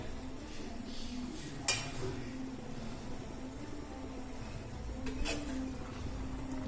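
A lid comes off a pot of chana dal pulao with a single bright metallic clink, then a second clink a few seconds later, over a low steady kitchen hum.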